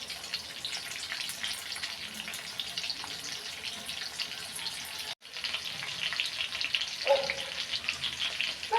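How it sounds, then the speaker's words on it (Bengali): Chicken pakoras fry in hot oil with a dense, steady hissing sizzle close up, briefly dropping out midway before resuming just as strongly. "তো পাকোড়া গরম তেলে দিয়ে দিলাম। এবার উল্টিয়ে পাল্টিয়ে ভেজে নিব লাল লাল করে।"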